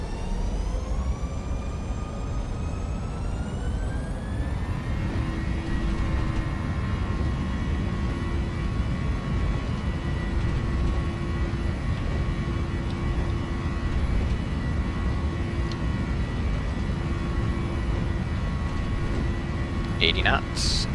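Simulated Southwest Boeing 737 engines spooling up to takeoff thrust in FS2004, a loud steady roar with rising whine tones as power builds, under occasional cockpit talk.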